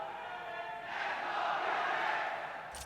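An esports arena crowd roars during a Valorant grand final between Paper Rex and Team Heretics, one fan leading the charge with a shout; the broad, sustained cheering swells and then fades slightly.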